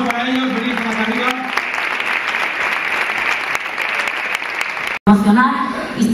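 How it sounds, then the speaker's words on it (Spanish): Applause at a municipal sports awards gala: a loud, sustained crowd clapping fills the room, cut by a brief pause near the end before a voice resumes over lingering claps. "Un fuerte aplauso para ellos"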